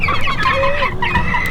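Chicks and chickens cluck and chirp in a busy, continuous flurry at feeding time on a homestead, close by and fairly loud, with overlapping calls and no talk.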